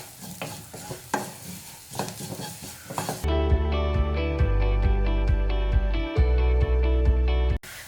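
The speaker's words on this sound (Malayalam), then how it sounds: "ഈ മഞ്ഞൾപ്പൊടിയുടെ പച്ചമണം മാറുന്ന വരെ ഒന്ന് വഴറ്റിയെടുക്കാം" Onion masala with turmeric powder sautéed in a pan for poori potato masala: a few seconds of scraping, stirring strokes that are soon buried under loud, steady music.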